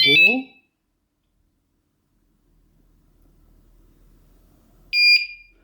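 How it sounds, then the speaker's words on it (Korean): A bicycle anti-theft alarm gives two short, shrill beeps separated by a quiet pause with faint background noise. "자전거 알람 실전 테스트입니다."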